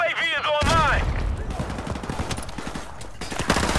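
A Mini Uzi in the Modern Warfare Remastered video game fires a rapid, dense stream of shots. A rising whistle comes just before, and a voice can be heard over the fire.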